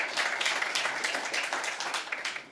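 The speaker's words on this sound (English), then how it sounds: "that deserves applause" A conference audience at Ukraine House in Davos breaks into sustained applause, a full, even wash of clapping from many hands across the room.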